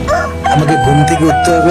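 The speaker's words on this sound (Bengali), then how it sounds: "এখনই মুরগি আবার ডাকবে" A rooster crows loudly and close, with a hen calling nearby, all packed into a short burst while a person speaks over it.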